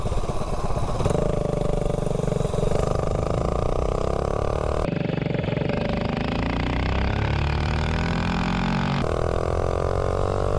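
Small engine fitted with a 24 mm flat slide carburetor, revving up and down in repeated rising and falling pulls, loud and close with a buzzy, mid-pitched tone.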